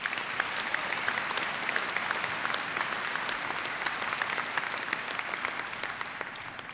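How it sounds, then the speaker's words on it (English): An audience at a university commencement ceremony applauds at a moderate distance, a steady, continuous patter of many hands with crisp individual claps poking through. "Please give her a well-deserved round of applause."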